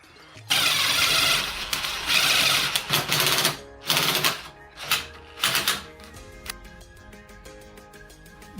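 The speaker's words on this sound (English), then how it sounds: "as you guys can tell right here, we drilled a new hole" Power drill boring a hole with a 1/4 inch bit in a Jeep YJ tailgate, loud whining bursts starting and stopping several times, then fading into lighter rattling.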